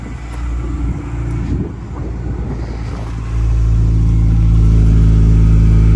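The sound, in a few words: Honda Civic engine running without a muffler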